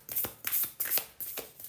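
Tarot cards being shuffled by hand in a series of quick, rhythmic riffling bursts, close and clear, with no voices.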